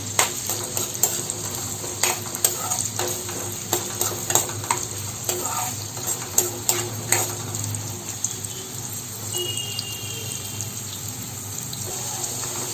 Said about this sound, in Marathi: तो थोडासा आपण असा गुलाबी होईपर्यंत भाजून घ्यायचा आहे